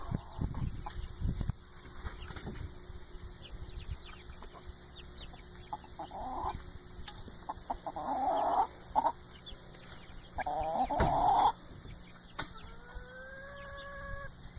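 Big hens clucking in a backyard coop: several throaty clucks and squawks come in bursts, close and moderately loud, over a steady background hum.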